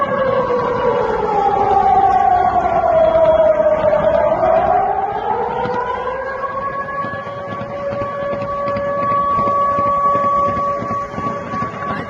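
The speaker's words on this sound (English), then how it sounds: "I don't think they turned on the sirens quick enough" A loud, wailing air raid siren sweeps slowly down and back up in pitch, then holds a steady drone, continuous for the whole stretch against a rumbling background during drone attacks.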